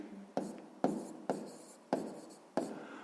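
Pen strokes on paper while a math answer is written down, a series of five or six short scratchy bursts at an even pace, close and fairly quiet.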